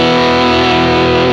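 Electric guitar on both P90 pickups in the middle position, run through Cali 76 compressor and Halcyon overdrive pedals, ringing a loud, sustained, gritty chord alone.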